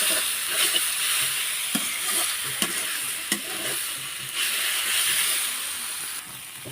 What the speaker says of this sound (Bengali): শাক আর মরিচ পেস্টটা আমি ভালোভাবে এখানে মিক্স করে নেব